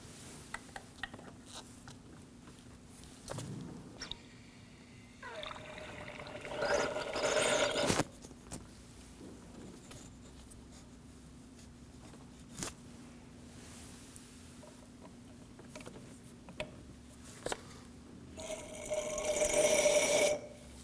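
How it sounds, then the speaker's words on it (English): A hand-pumped fluid extractor draws brake fluid from the reservoir of a 1993-2001 Subaru Impreza, making intermittent slurping, gurgling bursts with quiet clicks and pauses in between. "we'll be using a fluid extractor to pull as much brake fluid out of the reservoir as possible"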